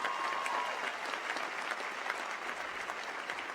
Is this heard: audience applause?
yes